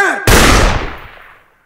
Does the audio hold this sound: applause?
no